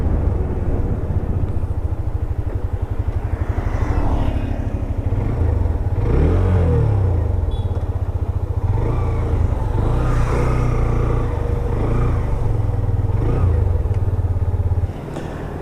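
Hero Extreme 125R, a 124.7 cc single-cylinder motorcycle, runs steadily while being ridden, its engine drone loud and continuous with slight pitch swells, cutting to a quieter idle near the end.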